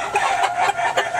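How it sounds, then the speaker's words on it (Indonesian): Kukuk Balenggek rooster, a native Solok breed, crowing and clucking nearby, several short repeated calls in a bouncing rhythm, fairly loud and clear with no talk over them. "Ikon Kabupaten Solo, ya, ayam kukuk balengge."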